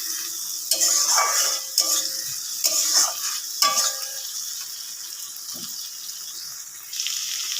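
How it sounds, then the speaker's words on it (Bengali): Masala spice paste frying in oil in a pan for a small-fish curry: a steady, close sizzle broken by several scraping stirring strokes in the first four seconds, then a calmer continuous frying hiss. "মশলাটা একটু ভালো করে ভেজে নেব, অনেকক্ষণ ধরে ভাজবো না"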